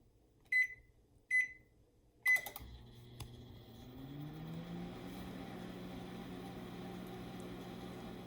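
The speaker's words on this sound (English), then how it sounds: "Put my plate into the microwave." Three sharp electronic beeps as buttons are pressed, then a microwave oven starts and runs with a steady low hum.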